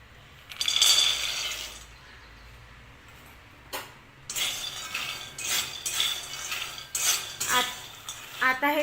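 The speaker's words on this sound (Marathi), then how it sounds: "आता हे शेंगदाणे आपल्याला चांगले भाजून घ्यायचे आहेत कढईमध्ये।" Peanuts being dry-roasted and stirred in a kadhai give light metallic scrapes and clinks that come in bursts of irregular rhythm, close and moderately loud, with no talking.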